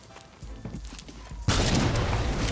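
A propane tank explodes in a video game with a sudden heavy blast that cuts through quieter scattered thumps, then leaves a loud, rough roar that holds to the end.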